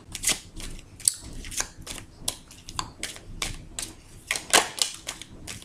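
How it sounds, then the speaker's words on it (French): Tarot cards from a Golden Rêverie deck being shuffled by hand, a close run of crisp riffling snaps and flicks in irregular bursts, with no talking. "Donc nous allons battre les cartes."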